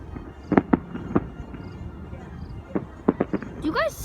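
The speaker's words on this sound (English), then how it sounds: "But the fireworks are exploding." Fireworks exploding outdoors during a storm-like night, a scattered series of sharp distant bangs and pops at irregular intervals, fairly faint, with a brief whistling crackle near the end.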